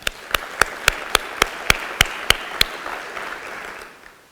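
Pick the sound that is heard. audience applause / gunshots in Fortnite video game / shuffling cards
audience applause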